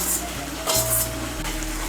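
Chopped tomato and a handful of peas dropped into a hot spice mix frying in oil for a Bengali rohu fish curry, with a steady close sizzle that briefly flares as they hit the pan.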